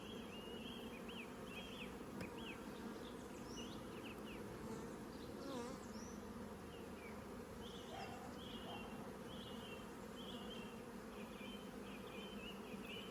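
Honey bees buzzing close by during a transfer from a nuc to a hive, a faint, steady, dense hum with individual bees whining past.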